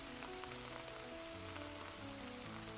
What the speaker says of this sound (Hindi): अचानक हुई बारिश से तापमान तेजी से गिरता है